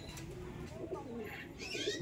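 Bengali Giribaz pigeons coo in soft, low bursts nearby, overlapping with faint chirps and a brief rustle against a dull background.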